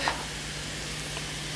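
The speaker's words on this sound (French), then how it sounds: "On mélange un peu les pâtes." Pasta being stirred in a hot frying pan with mushrooms, garlic and parsley, giving a steady close sizzle with a faint scrape of stirring near the start.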